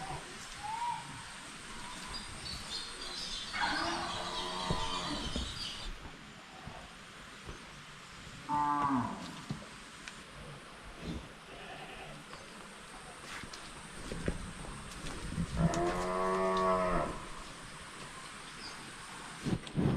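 A young red Brahman calf, about three months old, gives three short, faint moos spread across steady outdoor background noise.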